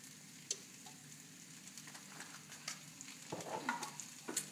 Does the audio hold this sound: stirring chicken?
yes